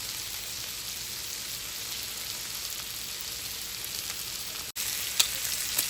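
Potatoes fry in a pan on a stovetop turned up to setting 6, giving a steady, close sizzle with a brief dropout near the end followed by a few sharp crackles.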